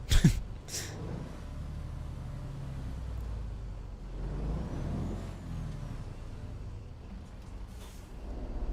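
A truck engine in the video game American Truck Simulator rumbles steadily and fairly quietly, with a hiss of air brakes at the start and another near the end.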